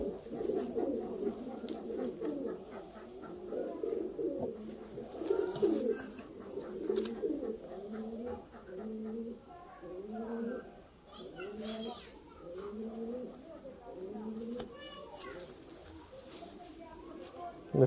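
A pair of Sialkoti roof pigeons coo in repeated soft, rounded phrases close by. Voices talk, and children's voices can be heard faintly in the background.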